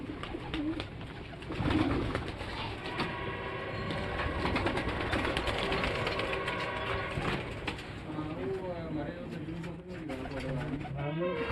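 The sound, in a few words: Ferozpuri pigeons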